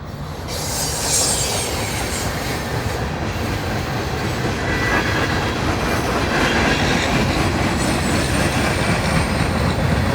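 A freight train rolls steadily past a railroad construction zone and shoo-fly track, close and loud, with wheels squealing and a continuous rumble of cars and rail clatter the whole time and no talking.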